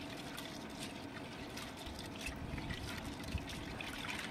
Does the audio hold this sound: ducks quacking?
no